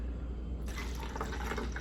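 Tap water runs into a container while a cup is being filled, a steady trickling, splashing pour that starts partway through and continues at moderate loudness, with no talking over it.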